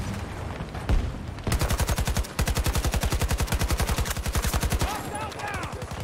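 AK-24 assault rifle in Battlefield firing long rapid automatic bursts, loud and close, with a single early shot before the sustained streams and a brief gap between them.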